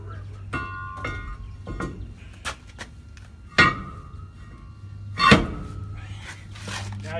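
A brake drum being refitted in a repair shop, with sharp metallic knocks and clanks at irregular intervals and ringing metal tones, close and fairly loud over a steady low hum.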